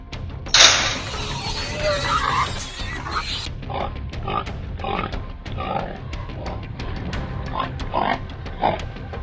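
Wild boars grunt and snort in short bursts, with a harsher squeal-like blast early on, then a series of close grunts under a low background rumble.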